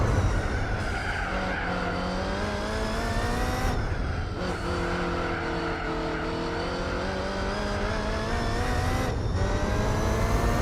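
A race car in Gran Turismo 4 accelerating out of the Spoon corner, its engine note rising through the gears with short breaks at the shifts, tyres squealing over a steady loud drone.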